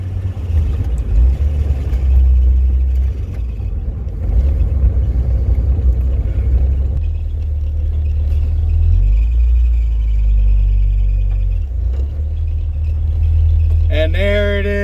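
A 1983 Porsche 944 stripped of its hood, hatch, sunroof and fenders rumbles and revs loudly up close while driving through a neighborhood, its low engine drone steady, briefly easing, then closing with a rising squeal.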